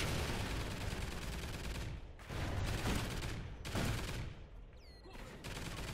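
Automatic rifle fire from the AMS in the video game Call of Duty: Ghosts, heard as rapid sustained bursts separated by brief pauses, loud and close, with a faint ringing shell or reload sound near the end.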